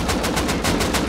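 Rapid automatic gunfire in the survival game Rust, a dense burst of evenly spaced shots, loud and close, with no talk over it.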